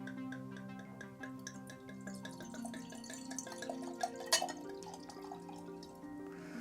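California Merlot from a wine kit is poured into a wine glass, a gentle gurgling trickle of liquid with rising resonant tones as the glass fills, close and quiet with no speech.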